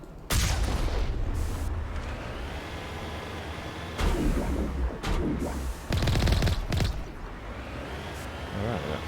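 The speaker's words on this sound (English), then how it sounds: "Keep firing through the tower." Rapid bursts of automatic weapons fire and heavy booms from a Mass Effect firefight at a tower, loud and repeated in clusters, with a voice speaking between volleys.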